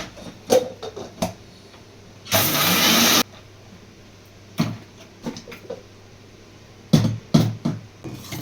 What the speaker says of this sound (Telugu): మిక్సీ పెట్టేసి పౌడర్ చేసుకో